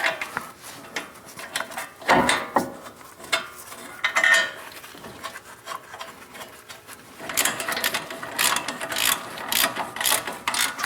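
A ratchet tightens the large brake caliper bolts on a 2010-2018 Toyota 4Runner, giving close, rapid clicking bursts in short runs that grow longer and busier toward the end.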